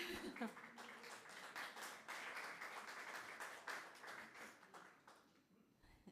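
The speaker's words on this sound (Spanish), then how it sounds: "El aplauso es para el Señor" Church congregation applauding together during a sermon, a dense wash of clapping that swells and holds steady before tapering near the end, with some voices mixed in.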